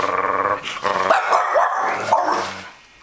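Dogs barking and growling together early in the morning, a close, loud burst of overlapping barks and snarls, with no talk.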